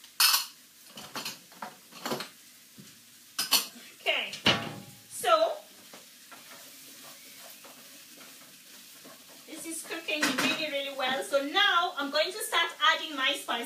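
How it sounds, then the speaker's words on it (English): Small dishes and utensils clatter and clink in a home kitchen while a stir-fry of butternut squash, sweetcorn and sugar snaps sizzles, someone talking over the scattered knocks and scrapes. "I'm just trying to get some of my little dishes so that I can put the rest of the things that I"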